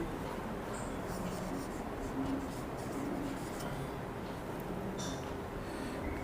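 A pen scratches across paper while a maths proof is written out, a soft continuous scribbling with faint irregular strokes under low background hiss.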